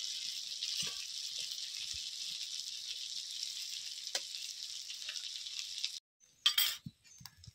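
Hilsa fish fry in a pan with a steady, hissing sizzle for several seconds, then it stops abruptly, followed by a few clinks and scrapes.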